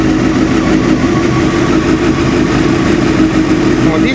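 A 954 motorcycle engine with a knocking fault idles steadily while warming up, a loud, close, continuous low rumble with a faint ticking texture and no change in pace.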